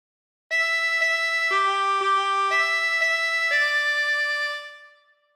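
A harmonica plays phrase 3 of Yellow Rose of Texas, a short run of clear, sustained blown and drawn reed notes that change pitch in steps and then fade out, played alone.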